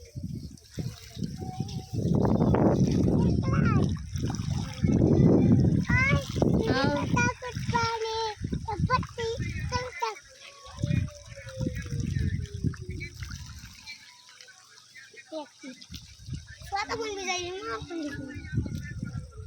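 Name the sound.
child splashing and playing with water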